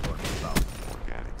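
Gunfire in a first-person shooter game, fired at enemies through smoke: a short burst of shots with one sharp, heavy blast near the middle, over steady game noise and a low murmur.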